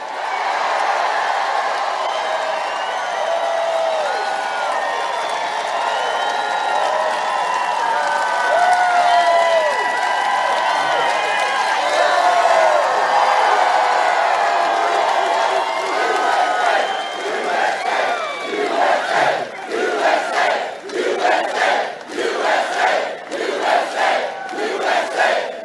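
A large outdoor campaign rally crowd for Donald Trump in Winston-Salem, North Carolina roars and cheers continuously, with whoops and shouts, then breaks into rhythmic clapping and chanting toward the end, loud and dense throughout.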